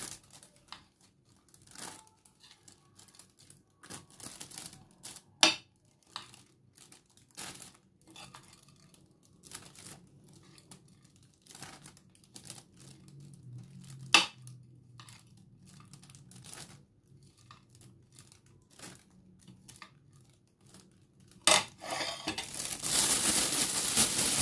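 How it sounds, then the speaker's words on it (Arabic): Plastic bag crinkling and rustling as hot peppers are packed into it for freezer storage, close and intermittent, with a louder burst of crumpling near the end. "هنحطه بقى في الكيس وهنعبيه ونحطه في التلاجة"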